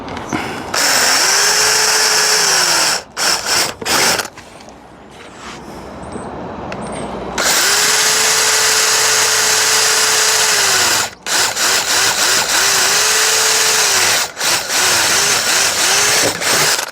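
A power drill countersinks screw holes in wood for a garden build outdoors, sounding as loud, close whining bursts of a few seconds each, separated by short pauses and one longer quiet gap.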